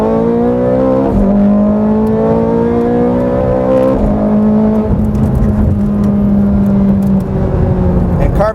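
A 2009 Ferrari 430 Scuderia engine wails at full throttle in second gear, a loud, steady climbing roar with rising pitch and a brief dip near each shift point, heard close from inside the cabin.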